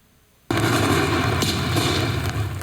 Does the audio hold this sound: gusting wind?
no